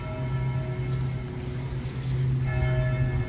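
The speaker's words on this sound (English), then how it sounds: "That's 12 o'clock chimes." A church bell in Galveston rings out the noon hour, its sustained tolling tones ringing and overlapping over outdoor ambience, moderately loud and with no talk.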